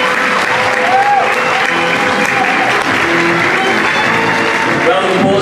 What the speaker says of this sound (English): Round of applause too for Mr. Glenn Tierney